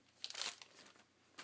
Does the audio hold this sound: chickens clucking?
no